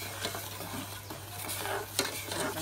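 Thai dry noodle sauce simmering and being stirred in a pan until syrupy, a soft steady sizzle under gentle scraping strokes, with a brighter clink near the two-second mark.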